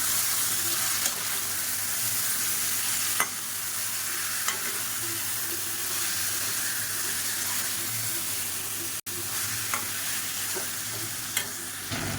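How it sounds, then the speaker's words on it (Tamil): Marinated chicken sizzling loudly in a pan with browned onions as it is stir-fried, a constant close frying hiss with occasional scrape and stir clicks. "இப்போ இந்த ஸ்டேஜில் நம்ம ஊற வச்சுக்கிற சிக்கனாக சேர்த்துக்கலாம் சேர்த்துட்டு நல்லா பரட்டி விட்டுக்கலாம்"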